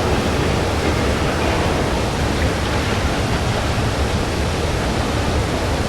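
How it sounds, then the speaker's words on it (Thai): Rushing water from the side-scrolling video game Limbo on iOS, a steady dense wash like a waterfall or stream, loud and continuous throughout with no breaks. "โอ้โห เสียงน้ำ"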